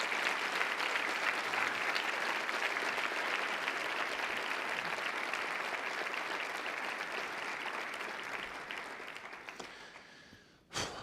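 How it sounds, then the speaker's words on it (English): A conference audience at a national student assessment event gives sustained, dense applause that holds steady and loud, then thins and tapers off before cutting out abruptly. "So could we please give him a round of applause for his service to the country?"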